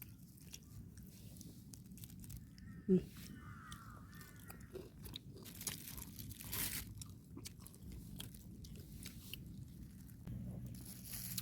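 Fresh raw phak tiu leaves picked in the forest are chewed with quiet, wet crunching and biting sounds close to the mouth, one sharper crunch standing out, over faint outdoor background.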